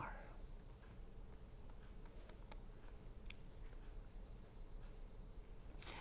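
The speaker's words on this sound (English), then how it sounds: "Here I will draw the ideal transformer." A pen or chalk draws an ideal transformer diagram by hand, faint scratchy strokes in short taps over a steady low room hum, with no talking.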